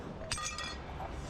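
Broken glass pieces clink together in a dumpster, two or three bright, short chinks close by over a quiet, faint background.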